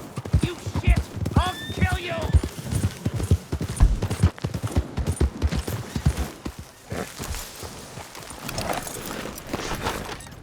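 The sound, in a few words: horse hooves in a video game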